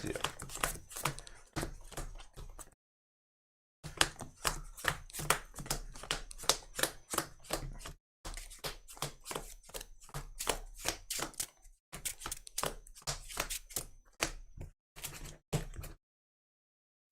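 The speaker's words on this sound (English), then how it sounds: "Assemble and shuffle the investigator decks." Decks of cards for the Arkham Horror Card Game are shuffled by hand at a tabletop, giving rapid papery riffling bursts in several runs separated by short pauses, close and clear with no talking.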